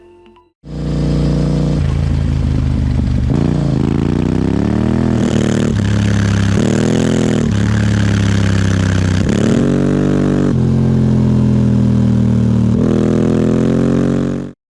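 A Yamaha Tenere 700 motorcycle with an aftermarket exhaust, heard close and loud as a steady rumble that rises and falls as the throttle is opened and let off, running without a break until it cuts off at the end.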